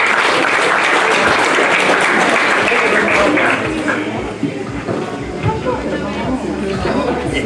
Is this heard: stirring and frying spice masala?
no